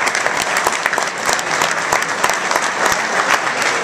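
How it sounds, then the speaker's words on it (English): A round of applause from guests at a Rockland County GOP dinner, steady dense clapping filling the room at moderate volume, with no speech over it. "Let's just give them a round of applause,"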